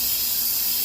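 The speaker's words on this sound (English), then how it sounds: "The C-clips from before, let's spray them off" Close, continuous spray of cleaner hissing over gear-oil-coated C-clips taken from a truck differential during an axle swap, one steady burst with no break.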